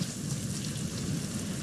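Steady rainfall in The Last of Us Part II pours down with a low rumbling undertone, constant and fairly loud, no voices.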